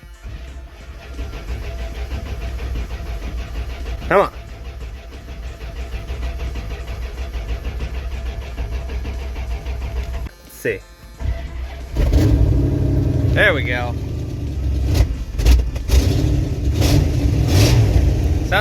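A Dodge Ramcharger that has been sitting a while cranks, stumbles and catches, then idles roughly before being revved hard; a man mutters briefly between the loud, close engine bursts.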